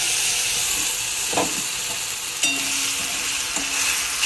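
A ginger, garlic, tomato and green chilli paste sizzles in a pan with a steady, fairly loud hiss, broken by a few stirring scrapes and brief bursts of spitting.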